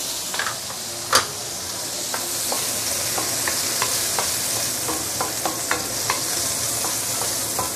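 White spring onion stir-frying in hot oil with dried shrimp gives a loud, steady sizzle. Scattered scraping taps of a spatula on the pan rise above it, including one sharper knock near the start.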